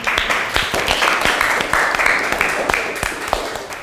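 A classroom of students applauds during an Indonesian language lesson, a dense, steady patter of many hands clapping at close range with faint voices mixed in throughout.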